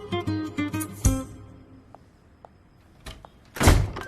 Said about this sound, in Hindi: दरवाजा।